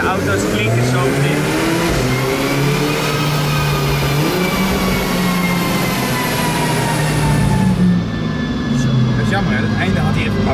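A tuned Mercedes-AMG van engine revs hard with its exhaust valve opened, a loud rising and falling drone held near throughout, with a voice speaking over it.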